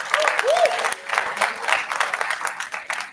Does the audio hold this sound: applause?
yes